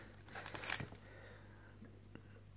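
Quiet crinkling and tearing of plastic shrink-wrap as a package box is opened up close, followed by a few soft rustles.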